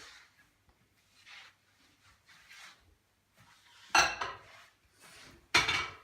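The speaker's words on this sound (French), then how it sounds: "nous allons tous les mettre dans le four micro-ondes" Dishes and cutlery clatter as items are loaded into a microwave oven, with two loud clinking bursts near the end after quieter handling.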